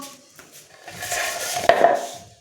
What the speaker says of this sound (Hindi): इसमें डाल दिया मैंने आलू